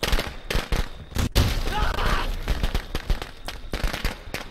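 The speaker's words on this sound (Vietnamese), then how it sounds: "Rồi chơi, chơi pháo bông pháo quà" Firecrackers burst in the Friday the 13th video game, a loud, rapid, uneven string of sharp pops and cracks with short gaps, over a busy background of game noise and voices.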